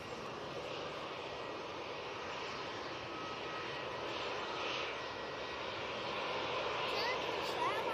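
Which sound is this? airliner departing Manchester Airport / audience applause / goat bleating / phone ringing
airliner departing Manchester Airport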